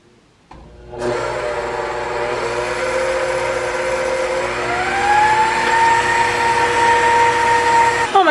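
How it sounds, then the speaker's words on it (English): A KitchenAid stand mixer whipping heavy cream switches on abruptly, then hums loudly and steadily with the motor pitch climbing as the speed is raised, no talk over it. "the heavy cream's mixing"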